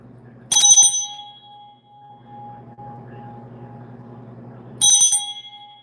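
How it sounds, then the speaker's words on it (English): Two bright bell rings, one near the start and one near the end, each a quick cluster of metallic strikes. A low hum and rumble fill the gap between them. "let me ring this bell 3 times"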